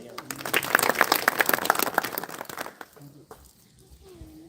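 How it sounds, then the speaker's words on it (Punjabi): Applause from a small gathering greeting a young man named a panchayat member during a visit by an SSP to a Punjabi writer's home, a burst of clapping for about three seconds that fades out, with voices talking throughout. "ਤਾੜੀਆਂ"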